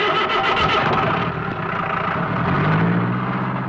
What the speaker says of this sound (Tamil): தள்ளி உட்காருங்க வண்டி எடுப்பா